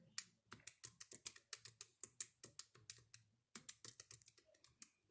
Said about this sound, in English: I generally type them in at the same time.